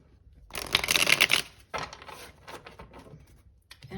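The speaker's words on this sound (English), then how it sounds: "Okay, we'll do one last shuffle." Tarot cards shuffled by hand in a quick riffling burst, then softer intermittent shuffling and tapping as the deck settles, close and alone without talk.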